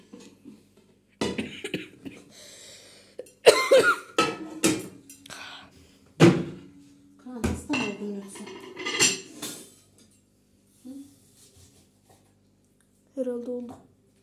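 Metal pots and utensils clatter and clank in irregular bursts, close by, with a few sharp knocks and scrapes, and brief voices in between.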